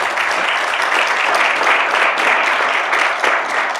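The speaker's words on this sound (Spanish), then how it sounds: "Un fuerte aplauso, por favor." Steady audience applause fills a seminar room on sustainable urban mobility, a dense, even patter of many hands clapping at a constant level with no talk over it.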